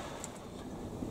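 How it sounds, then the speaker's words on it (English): Wind buffeting a microphone outdoors on a very windy day, a dull continuous roar with low rumbling gusts, steady and fairly quiet, no speech. "Excuse the background noise, it's very windy today."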